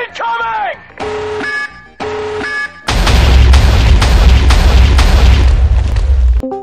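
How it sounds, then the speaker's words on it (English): A tactical nuke in the Bloons TD 6 video game: a few rising electronic warning tones followed by a loud, deep, sustained explosion with a rumbling roar that holds for several seconds. "Tactical nuke incoming!"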